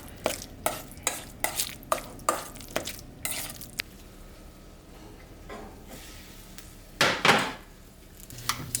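A spoon stirs couscous with melted butter in a pot on the stove, scraping in a steady series of close, rhythmic clinks for several seconds, then a pause and a louder scrape.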